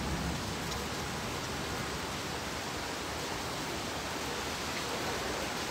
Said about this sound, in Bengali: বারান্দায় বসে বসে বৃষ্টি